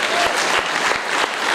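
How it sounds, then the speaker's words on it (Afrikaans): A church congregation claps together in a quick, steady rhythm, a dense wash of hand claps that fills the room without pause for the whole stretch. "Kom ons klap vir Jesus."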